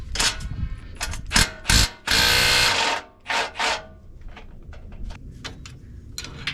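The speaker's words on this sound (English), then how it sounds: "so we'll have to unbolt this." Metal clicks, ratcheting and short bursts of clatter from unbolting a part on a Genie Z60/34 articulated boom lift, with a couple of louder scraping rushes near the start, then lighter intermittent taps, close by and without talk.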